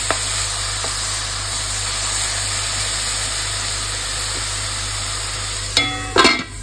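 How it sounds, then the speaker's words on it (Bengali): Onions fry in a hot pan for an eggplant curry, a steady close sizzle throughout, with a few sharp scraping stirs and clatters near the end. "পেঁয়াজটা লাগিয়ে দিলাম"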